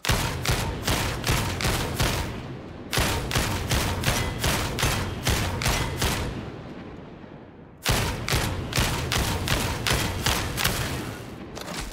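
Rapid bursts of weapon gunfire in Warhammer 40k Darktide, three long volleys of loud, evenly spaced shots separated by brief pauses, with no voices.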